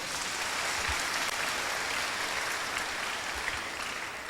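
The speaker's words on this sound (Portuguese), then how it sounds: "Salve de palmas para ele." An audience applauds steadily during a Catholic priest's talk on confession, a continuous, even burst of many hands clapping for several seconds, with no talk over it.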